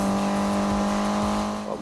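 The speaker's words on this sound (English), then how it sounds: "Definitely sounds like an aftermarket exhaust on it." A sustained, loud engine drone with steady harmonic tones, a Mitsubishi Evo with an aftermarket exhaust accelerating past 120 in Need for Speed, continuous throughout.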